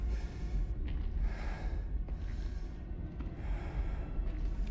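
Heavy, frightened breathing from a man in a film scene, with a slow rhythm of deep gasping inhales and exhales repeating about four times, close and alone over a low rumbling background.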